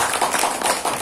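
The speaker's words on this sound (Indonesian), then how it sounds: "Tepuk tangan untuk kita semua." Audience applause at a business workshop in Karanganyar, a brief burst of dense, even clapping from a crowd.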